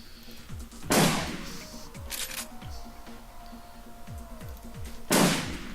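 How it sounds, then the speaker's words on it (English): Shotgun blasts in the Shadowrun Returns video game, two loud booming shots about four seconds apart, set over a rhythmic game soundtrack. "Switch out for shotgun."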